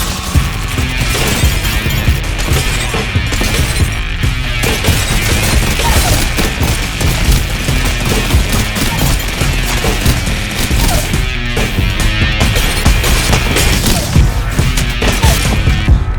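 Video-game gunfire: a loud, dense, unbroken barrage of shots and crashes that fills the whole stretch with no quiet gaps and no clear voices.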